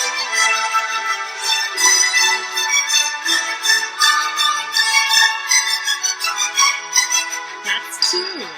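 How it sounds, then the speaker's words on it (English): A bell tune played on a xylophone sounds as a quick stream of bright, ringing struck notes, close and steady, with a short sliding tone at the end. "that second bell was played by a xylophone"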